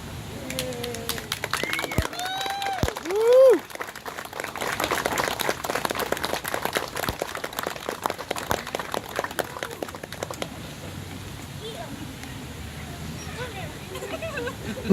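Crowd at an Idaho wedding applauding and cheering for the newly pronounced couple, a dense, steady patter of claps with scattered whoops and chatter that runs for several seconds before thinning out.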